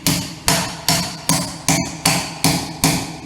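Steel rings out in eight heavy, evenly spaced hammer blows, loud and close, each strike fading before the next, during welding work on the back door of an old town jailhouse in Jefferson, South Carolina.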